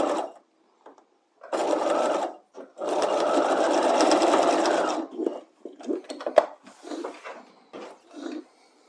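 A sewing machine stitches a bodice shoulder seam for a combined neckline and armhole facing, running in two close, steady bursts of whirring with short pauses, followed by lighter handling clicks and rustles of fabric.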